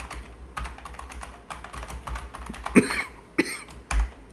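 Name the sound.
coughing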